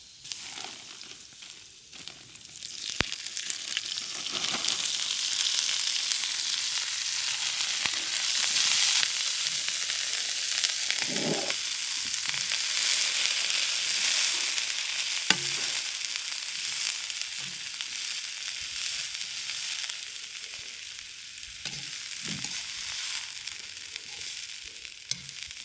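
Fresh bean sprouts stir-fried in a hot wok, with a loud continuous sizzle and hiss, broken by occasional scrapes and tosses of the spatula, and no talking.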